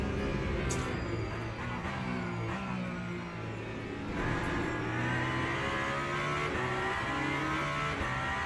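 Race car engine in the Le Mans Ultimate sim racing game at Le Mans, a loud steady high-revving drone with layered harmonics and slight pitch shifts, continuous throughout with no talk.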